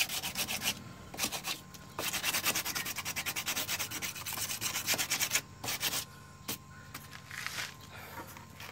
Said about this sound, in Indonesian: jadi kita amplas lagi seperti ini.